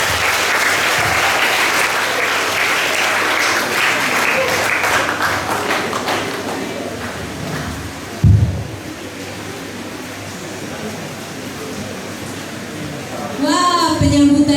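Applause from the audience at a book discussion event held at a school in Kupang, a dense wash of clapping that swells loudly, thins out, then surges again near the end.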